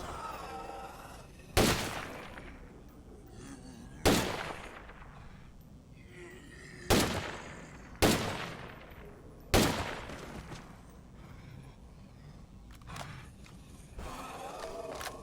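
Gunfire in a video game arrives as five or six sharp, loud shots spaced a few seconds apart, each with a decaying tail, over a quiet, faintly noisy background.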